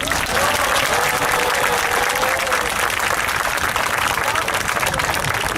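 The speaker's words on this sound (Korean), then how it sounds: "다시 한번 우리 좋은 발언해주신 학생분들에게 큰 박수 부탁드립니다" Large crowd at an outdoor street rally in Gwanghwamun Square giving sustained, even applause, a dense continuous wash of clapping at steady loudness from start to finish.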